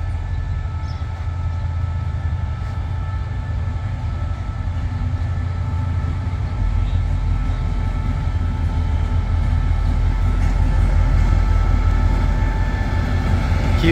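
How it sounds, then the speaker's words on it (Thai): An electric commuter train on the Red Line from Taling Chan rumbles steadily nearby at Bang Sue Junction, with a deep continuous roar and faint rhythmic clatter, growing slightly louder midway; no one speaks. "ข้างบนนั้นเป็นรถไฟฟ้าสายสีแดงมาจากตลิ่งชัน"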